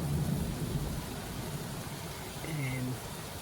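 Steady rain falls with a soft, even hiss throughout, and distant thunder rumbles low in the background.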